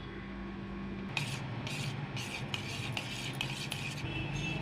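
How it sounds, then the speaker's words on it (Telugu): A spoon stirs fruit custard in a pot, making about half a dozen rhythmic scraping strokes over a steady, close background hum, with no talking. "ఇలా కలుపుతూ ఉండాలండి"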